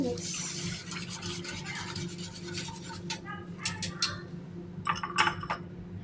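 Spoon stirring sugar into milk in a pot for crème caramel, soft scraping and light clinks against the pot over a low steady hum, growing a little busier toward the end.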